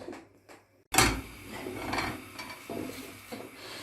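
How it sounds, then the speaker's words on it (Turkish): A spoon stirs batter in a bowl, opening with a sharp close clank and then repeated scraping and light clinking against the bowl. "Şimdi bunu karıştırıyoruz."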